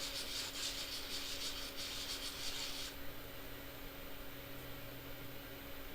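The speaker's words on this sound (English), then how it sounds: "So I'm gonna do a little more sanding." Silver bezel being sanded, a steady close rubbing rasp that runs for about three seconds, then stops and leaves a quieter background hum.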